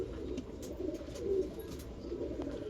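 Pigeons, including Pakistani-line and Malwai breeds, coo softly in an indoor breeding loft with eggs and chicks, a low continuous murmur of several birds with faint higher chirps.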